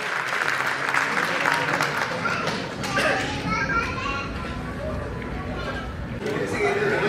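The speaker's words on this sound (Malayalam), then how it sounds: "ഒരു ഗംഭീര കയ്യടി ചാവേർ എന്ന സിനിമയുടെ അണിയറ പ്രവർത്തകർ" Loud, sustained applause from an audience at a stage event honoring the crew of the film Chaaver, a dense wash of clapping mixed with crowd chatter and children's voices.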